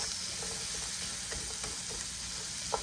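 Cooked lentils going into a hot pan, a loud, continuous sizzle and hiss heard close up with a few soft clicks and a sharper knock near the end, and no voices.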